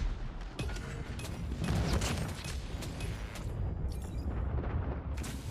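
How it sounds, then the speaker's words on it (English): Airstrike explosions in Call of Duty Mobile sound as a dense burst of booming blasts and crackling impacts, loud and continuous with sharp transients over a few seconds. "Friendly airstrike incoming."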